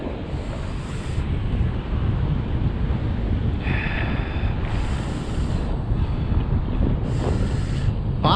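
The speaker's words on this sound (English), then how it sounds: "In extreme wind." Strong, steady wind roar buffets the microphone as a DJI Mavic Mini drone flies low in sport mode over big ocean waves, with surf wash and faint rotor whine swelling in and out throughout.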